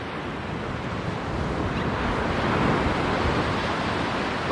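Ocean surf washes over a sandbar at a fishing beach, a continuous broadband rush that slowly swells louder, mixed with wind buffeting the microphone and no talk.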